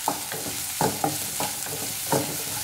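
Spring onion whites and stems stir-fried in a pan for restaurant-style chilli chicken and vegetable fried rice: a steady close sizzle broken by repeated scraping strokes of a spatula, about five or six stirs in quick succession.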